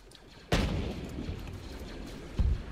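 Field gun fire in the Arma 3 Star Wars Zeus mission, two heavy booms about two seconds apart over a steady rumbling battlefield background.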